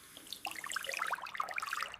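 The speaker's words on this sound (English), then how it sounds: "Let's wet the brush with a little water." Water from a tap running to wet a toothbrush at a sink, a short, bright trickling splash with scattered droplet sounds, close and soft, no talking.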